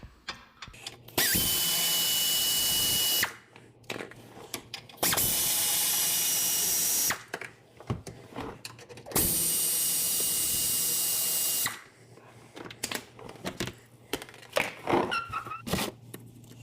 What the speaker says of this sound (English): I'm going to use an air ratchet because I have one.